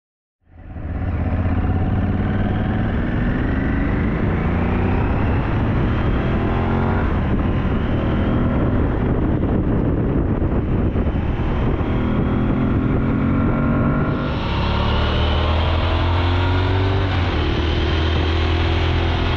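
An Aprilia Tuareg 660 middleweight adventure motorcycle rides with a steady, loud engine drone, rising and falling in pitch as the rider works through the gears, with wind rushing over the microphone.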